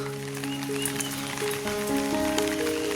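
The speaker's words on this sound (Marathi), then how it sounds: "एवढा पाऊस लागतोय" Steady, dense monsoon rain in rural Konkan patters and hisses close by, with a sustained tonal hum running underneath throughout.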